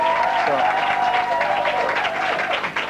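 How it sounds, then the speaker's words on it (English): Audience at a Las Vegas magic show laughing and cheering: a busy crowd roar with applause, voices rising and falling together, heard from backstage at moderate distance, with a faint whistle-like tone gliding through. "They're kind of laughing and cheering and stuff."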